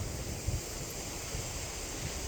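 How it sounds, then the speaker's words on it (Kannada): Thoseghar waterfall pours steadily in the distance, a constant broadband roar blended with wind buffeting the microphone, with no voices. "ಇಲ್ಲಿ ಇದೇ ಫಾಲ್ಸು ಬೀಳ್ತಾ ಇರೋದು"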